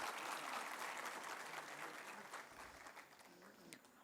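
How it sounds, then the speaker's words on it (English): A crowd claps steadily, a dense wash of applause that slowly fades toward the end, heard from a middle distance. "Let's have a loud round of applause."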